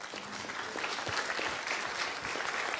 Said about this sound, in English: Give me a round of applause for sitting in the right seat.